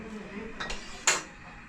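A frying pan set onto a stove gives a couple of soft metallic knocks followed by one brighter clank, close and brief over a quiet kitchen background.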